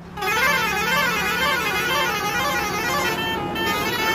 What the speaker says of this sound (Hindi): अगर हम इस गाड़ी के यहाँ पर हॉर्न की बात करें तो 6 पाई वाला हॉर्न लगा हुआ है।